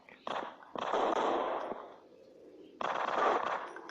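Bursts of gunfire in a shooting video game crackle in rapid volleys, a long burst in the middle and another at the end, loud and close, with broadband noisy texture and short gaps between.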